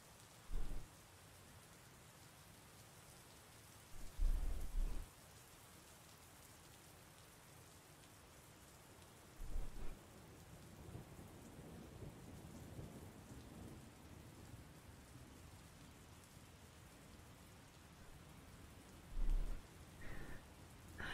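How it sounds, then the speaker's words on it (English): Heavy storm outside with wind-driven sideways rain, a steady wash of rain noise broken by several low rumbling thunder bursts spaced through the stretch, with no voices. "is it a freaking complete storm outside? The rain's going sideways."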